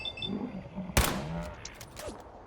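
A single sharp gunshot in Fallout 4 with a zombie apocalypse mod, cracking out loud and sudden, then decaying into a short echoing tail over low game ambience.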